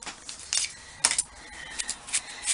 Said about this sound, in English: you're just going to take a pair of scissors